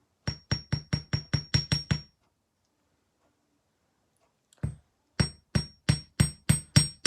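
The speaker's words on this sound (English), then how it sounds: "for this hook also, you can just hammer it a little bit." A metal jewelry hook is hammered on a bench block in two runs of quick, evenly spaced sharp taps, eight or so in each run, close and crisp, with a single tap in the quiet gap between them.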